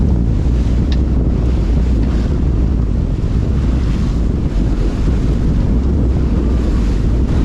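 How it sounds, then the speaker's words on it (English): Strong, steady wind roars across the microphone aboard a sailboat off the New Zealand coast, mixed with the rush of water and waves along the hull, continuous and loud throughout with no voices. "Wind is very up and down."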